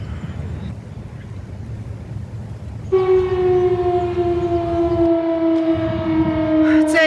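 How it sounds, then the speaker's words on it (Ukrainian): Air raid siren sounding during an alert in Ukraine: a steady, droning wail rises in partway through and holds over a background rumble, fairly close and loud. "У нас почалась повітряна тривога."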